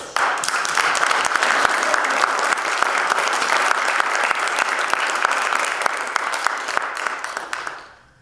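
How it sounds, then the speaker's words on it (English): Sustained audience applause at a Four Chaplains memorial ceremony, steady and dense clapping from a large crowd for about eight seconds before fading out at the end. "And I'd like you to give them a round of applause."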